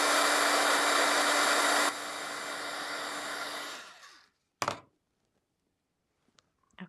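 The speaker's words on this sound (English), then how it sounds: "I hit this with my heat tool so just to make sure everything's dry." A craft heat tool blows loudly and steadily while drying a handmade rainbow shaker card, its broadband whir with a faint hum dropping partway, then winding down and stopping, followed by a sharp knock and a few soft clicks.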